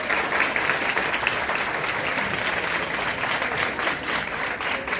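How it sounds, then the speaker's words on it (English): Steady, dense applause from a gathered audience at an Ethiopian professionals' event in Atlanta, many hands clapping evenly and fairly loud for several seconds with no talk over it. "Can you give her another round of applause?"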